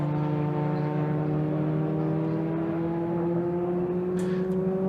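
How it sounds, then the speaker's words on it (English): Race car rolling down the pit lane at Donington Park, a steady droning engine note with rising harmonic tones, held at moderate distance throughout with no talk over it. "You can hear a car coming down pit lane."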